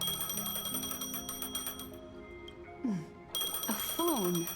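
A phone rings in Honkai: Star Rail, a bright repeating electronic ring mixed with game music and tonal chimes, with a voice speaking over part of it.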